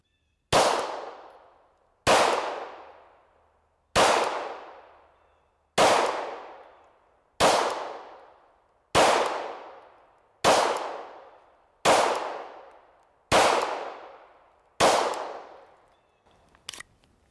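Ten sharp Glock 17 Gen 4 pistol shots ring out at a shooting range, evenly spaced about two seconds apart, each a loud crack with a decaying echo, followed by a faint clatter at the end.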